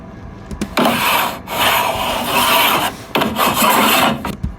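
A car-shaped pencil box scrapes and rubs along a wooden drawing table in two long rasping strokes, with brief pauses and small knocks between them.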